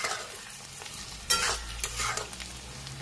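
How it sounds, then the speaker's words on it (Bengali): Spice masala being fried and stirred for a mutton curry, a steady close sizzle with brief scraping stirs of a spoon in the pan, one sharper scrape near the middle. "আর এখানে মাংসের জন্য মশলা কষানো হচ্ছে।"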